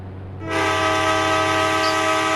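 A steady train horn blares in an Indian bike video game, a continuous harmonic tone that swells in after a short quiet start and holds loud and sustained to the end.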